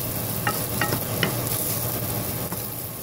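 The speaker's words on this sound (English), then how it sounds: "I'm going to stir it around, make sure it gets on all that meat." Cubes of New York strip beef stirred in sizzling butter for beef stroganoff, a dense steady frying hiss with a few quick spoon scrapes in the first second or so.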